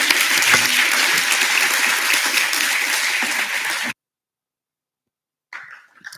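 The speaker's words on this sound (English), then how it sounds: "Another round of applause for them, please." A conference crowd at the Africa Bitcoin Conference gives loud, sustained applause for panelists, a dense wall of clapping that stops abruptly, followed by silence and a faint brief sound.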